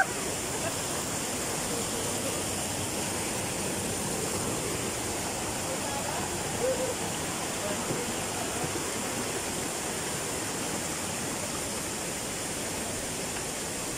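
A waterfall at a resort in Negros roars as a steady, dense rush of falling water, loud and unbroken throughout.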